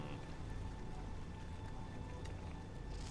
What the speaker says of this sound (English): Painfully hot rain, it says.